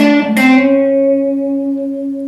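A blues guitar lick resolving to the major third, heard as a quick plucked phrase that settles into a single sustained, slowly fading note with clear harmonics, close and alone.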